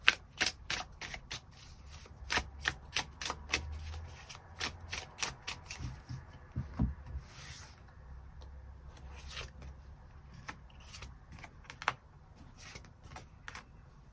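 Tarot cards shuffled and drawn in a quiet room, sharp riffling clicks arriving in clusters, then slower single snaps and slides as cards are pulled, close and soft with faint low rumble underneath and no talk.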